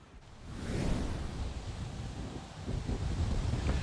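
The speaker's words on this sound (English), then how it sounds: "it certainly is windy here at Bayfront Park" Strong wind buffets the microphone outdoors at Bayfront Park, a steady low roar that gusts louder near the start and end, with no voices.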